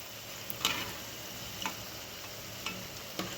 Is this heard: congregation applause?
no